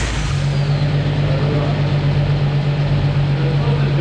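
A 1973 Jeep engine runs steadily at a loud, close idle with a constant low hum. There is no clear start-up moment and no talking.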